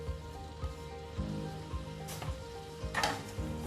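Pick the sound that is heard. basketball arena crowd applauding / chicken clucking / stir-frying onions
stir-frying onions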